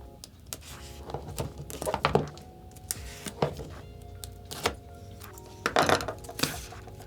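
A titanium utility knife being unboxed: light metallic clinks, taps and rattles of the knife and its packaging, close up and irregular, with short pauses between handling sounds.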